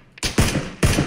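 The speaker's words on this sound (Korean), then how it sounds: "이거 탄 먼저 박히고 총소리 나중에 나는 거 보면은" A short burst of gunfire in the battle royale game PUBG (Battlegrounds): a faint click, then two loud, sharp shots about half a second apart, each with a rough, echoing tail.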